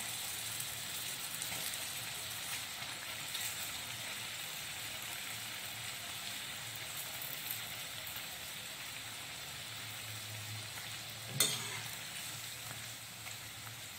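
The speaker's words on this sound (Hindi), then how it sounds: "इन बड़ों को सेक लेंगे" Dahi vada fritters frying in oil hiss in a steady, fairly soft sizzle with faint crackles, broken by a single sharp clink near the end; nobody talks.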